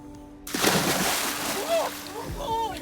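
A person drops into marina water with a loud close splash, followed by sloshing and churning water, while voices talk over the commotion.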